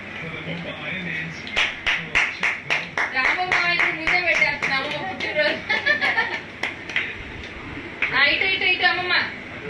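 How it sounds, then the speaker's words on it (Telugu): Applause at a birthday celebration, a run of quick rhythmic hand claps through most of the stretch, mixed with chuckles and lively chatter from a nearby group. "happy birthday to you claps"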